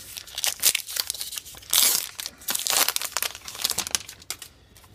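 Foil wrapper of a 2018 Topps Star Wars Journey to the Last Jedi trading card pack being torn and crinkled open, close and crisp, in a burst of rustling tears and crackles with no talking.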